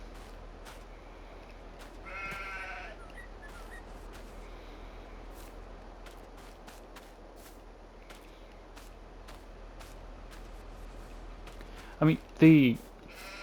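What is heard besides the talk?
sheep bleating in video game Farming Simulator 22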